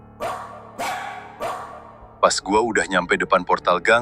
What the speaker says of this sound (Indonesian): Cuma ada suara anjing menggonggong jauh di ujung jalan.